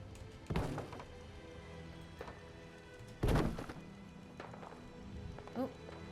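Two muffled, heavy gunshots ring out in Fallout 4 at the Abernathy Farm settlement, one early and one midway, each a single thudding blast over low game ambience.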